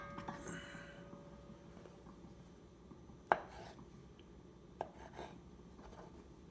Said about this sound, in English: Gotta put them in the pot, give them a chop.